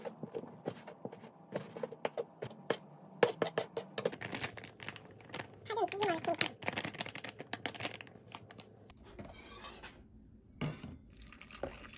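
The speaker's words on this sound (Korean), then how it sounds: "오징어 썰어." A knife chops squid on a board for a Korean squid scallion pancake, making quick, fairly quiet, irregular taps and clicks in close succession, with a busier flurry of cuts in the middle and softer kitchen clatter toward the end.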